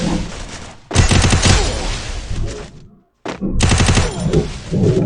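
Loud bursts of automatic gunfire in the Free Fire battle game, two long rattling volleys split by a brief silence, close and dominant.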